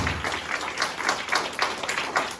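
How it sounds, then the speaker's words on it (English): A church congregation claps together loudly as an offering to the Lord during a New Year service, a dense, steady wash of many hands beating in loose rhythm, close and filling the room. "A loud clap offering to the Lord."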